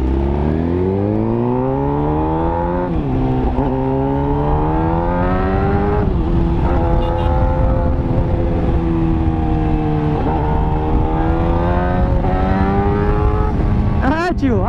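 A car accelerating in city traffic, its engine droning loud and close and rising in pitch through repeated gear changes over a constant rush of road and wind noise.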